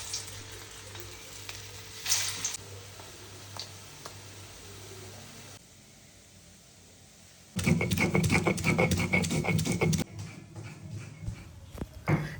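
Soybean muitha fry in hot oil in a wok, with a low sizzle at first, then a loud burst of crackling and spitting that gradually eases off.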